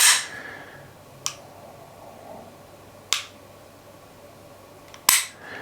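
Three sharp, separate shots from a Springfield XDM Elite 10mm pistol crack at an outdoor range, spaced a second or two apart over a quiet background hiss.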